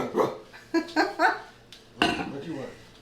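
A dog barks in a kitchen during ham preparation for a potluck, several sharp barks mixed with clattering dishes and people talking nearby.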